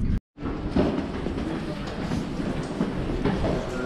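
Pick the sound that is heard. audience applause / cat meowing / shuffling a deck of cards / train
train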